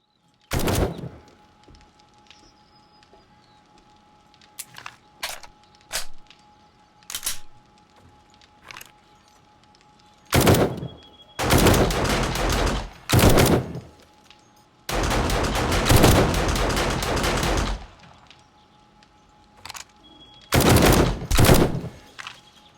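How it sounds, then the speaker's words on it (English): Automated turrets in 7 Days to Die firing at zombies: long, loud bursts of rapid gunfire with short single shots scattered between them, no voices. "These turrets are wiping them out."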